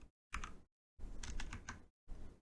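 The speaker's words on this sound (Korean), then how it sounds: "그렇게 일단 입력할게요." Bursts of quick keystrokes on a computer keyboard come in three short clusters separated by silent gaps, close and quiet, with no talking.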